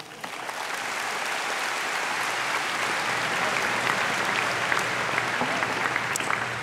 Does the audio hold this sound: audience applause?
yes